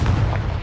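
Confringo blasting spell going off in Hogwarts Legacy, a short booming explosive burst with a heavy low thump, loud and close, followed by a brief rumbling tail.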